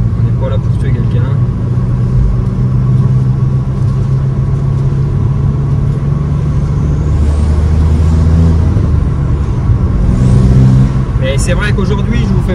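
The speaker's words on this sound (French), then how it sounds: "Le son de la voiture, c'est une tuerie, quoi." A Golf 5 GTI engine and exhaust, fitted with a stainless steel downpipe, drone with a deep, steady, loud rumble throughout, with a voice talking over it.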